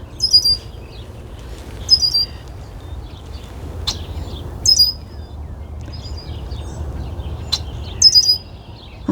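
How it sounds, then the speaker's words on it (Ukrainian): A small bird sings outdoors in short, high chirping phrases repeated about every two to three seconds, bright and fairly close above a soft, steady background hush. "що пташечка поспіває нам"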